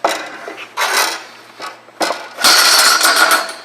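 Heavy-duty steel strapping tensioning tool ratcheting in short mechanical bursts, a few separate clicks and grinds followed by a longer, louder continuous ratcheting run, close and with no talking.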